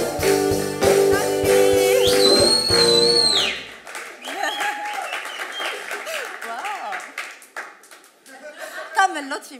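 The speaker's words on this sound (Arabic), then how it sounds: "تصفيقة حارة على عزة" Warm applause for a fashion model on a TV show in Tunisia, a burst of studio clapping that swells and then gives way to talk and scattered laughter.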